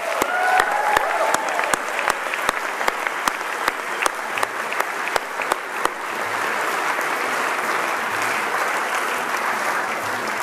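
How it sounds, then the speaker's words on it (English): A full round of applause from the audience at the inaugural Silicon Prairie Awards ceremony. Several sharp, distinct claps stand out near the start, and then the clapping settles into a dense, steady wash that lasts the whole stretch. "I think we should give ourselves another round of applause."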